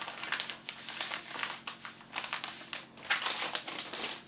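A plastic sample bag for DIY asbestos testing being sealed, with loud close crinkling and rustling of plastic in irregular bursts and no talking.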